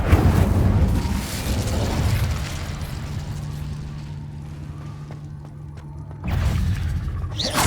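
Incendio fire spell in the Hogwarts Legacy video game, a booming fiery blast at the start that fades into a low hum and scattered clicks, then another loud burst near the end.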